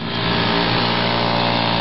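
A chainsaw runs at a steady high rev, loud and close, with a constant buzzing drone for the whole stretch and no talk over it.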